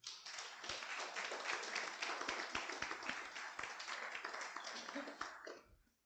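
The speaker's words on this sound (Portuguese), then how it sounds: "Vamos aplaudir o nome do Senhor." A church congregation claps together in steady, dense applause that stays loud and even before tapering off at the end, with a voice faintly present beneath.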